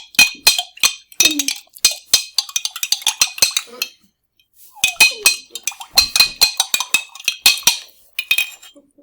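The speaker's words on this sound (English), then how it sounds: "Now we're going to stir it." A spoon stirs sugar into water in a glass beaker, giving quick, bright clinks and taps in steady runs that pause for a moment, then start again, close up with no voice.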